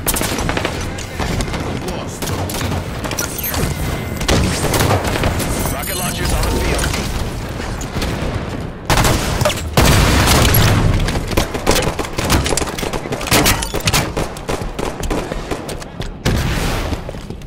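Rocket launcher explosions in a Halo 5 arena slayer match boom repeatedly over dense, continuous gunfire and mechanical weapon noise, with loud blasts recurring throughout.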